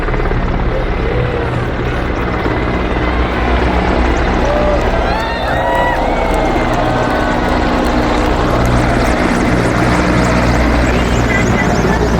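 A formation of Indian Army light helicopters flies overhead at the Republic Day Parade on Kartavya Path, producing a loud, steady rotor drone that persists throughout, with faint crowd voices beneath it.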